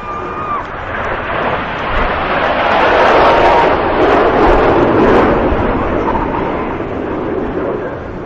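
Red Arrows jets flying in close formation, a broad roaring engine wash that swells to a loud peak midway and then slowly fades.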